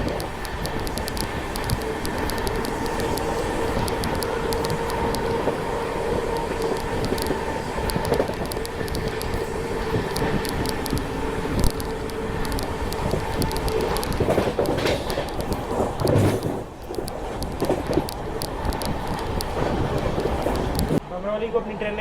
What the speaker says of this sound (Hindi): बमरौली को अपनी ट्रेन ने काफ़ी ज़्यादा स्पीड में स्किप मार दिया है